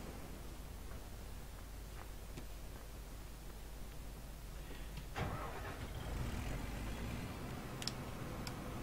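Engine starting in Farming Simulator 15: a steady low idle hum gives way to a sudden louder rise at about five seconds as the vehicle engine catches and keeps running.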